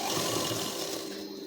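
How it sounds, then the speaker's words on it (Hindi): A sewing machine runs steadily while stitching a blouse, a continuous close whirring hum with no pauses over the short stretch. "इधर बीचों बीच सेंटर में मिलाकर फिर सिलाई चलाएंगे।"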